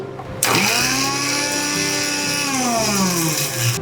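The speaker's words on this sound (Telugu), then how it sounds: "అల్లం ముక్కలు, వెల్లుల్లి కూడా కొంచెం గ్రైండ్ చేసుకోవాలి" Mixer grinder grinding ginger, garlic and green chillies: the motor kicks in abruptly and runs with a loud, steady whirring hum, its pitch sagging slightly as the blades churn, alone without talk.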